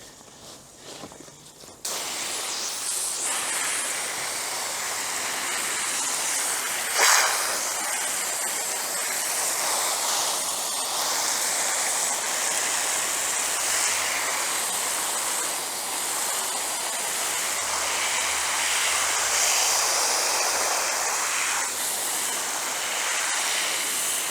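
Water blasted from a hose onto alpine hiking pants, a loud steady hissing spray that starts abruptly after a quiet moment and continues with little variation, a brief sharper burst partway through.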